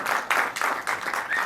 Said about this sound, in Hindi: जोरदार तालियों के साथ इनका स्वागत होना चाहिए